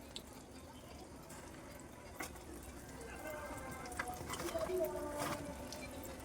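Jaggery-sweetened bonda balls frying in hot oil give a steady low sizzle and bubbling, with a voice talking over it in the latter half.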